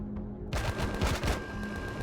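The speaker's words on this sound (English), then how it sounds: "Trick is to get them killed with the forward-facing gats before my other automated weapons get them." Rapid gunfire from forward-facing ship guns in the space game Empyrion, a dense burst of repeated shots that starts abruptly and continues loud and rattling to the end.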